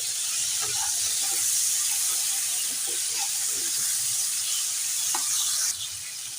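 Tomato going into sizzling oil in a frying pan, for a Bengali bottle-gourd-greens curry with plantain, potato and brinjal; a steady loud hiss of frying holds throughout, with faint scrapes and clinks, easing slightly near the end.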